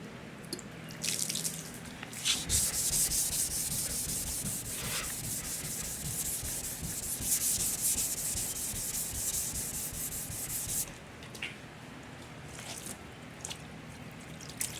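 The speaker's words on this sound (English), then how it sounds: "I'm wet sanding with about 400 grit." Car paint is wet sanded by hand with 400 grit sandpaper in a sustained, gritty rubbing hiss. Close strokes run for about eight seconds, then ease into quieter, sparser rubbing.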